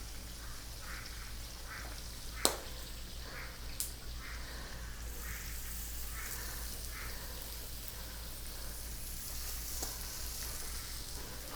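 Red peppers for paella frying in a pan, a faint, continuous crackling sizzle with soft repeated pops and a couple of sharp clicks near the start, no voices.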